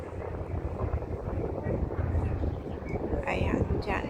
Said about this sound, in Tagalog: Mas mahangin ngayon kaysa kanina.